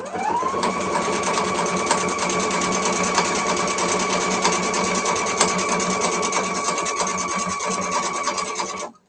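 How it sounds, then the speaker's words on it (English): A sewing machine stitches fabric with a steady, fast mechanical whir and a rising motor tone at the start, running continuously for several seconds before stopping abruptly. "I'm going to put down my needle down position, and I'm just going to begin stitching."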